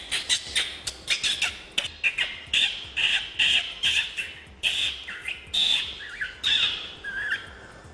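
A person imitates bird calls for a school puppet film, producing a rapid series of sharp squawks and chirps that come in short bursts with brief pauses between them.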